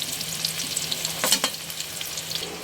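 Homemade french fries crackle in frying oil with a bright, continuous sizzle, and a brief burst of scraping and stirring comes midway.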